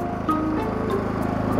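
A lawn mower's engine runs close by with a steady, rapid putter and a throbbing low drone, continuous for the whole moment.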